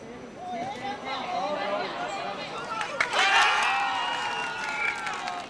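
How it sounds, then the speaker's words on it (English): Spectators cheer and shout at a robot soccer match between university teams, a steady crowd roar swelling louder midway with scattered whoops and voices mixed in. "Their designers can only stand back and cheer."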